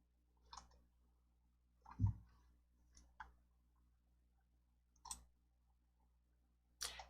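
A computer mouse clicks about five times during PowerPoint work, each sharp and close, spaced irregularly with quiet stretches between.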